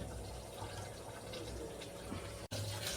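Water poured onto rice for biryani, a steady, faint rushing fill heard close up that runs through the whole stretch with one brief break near the end.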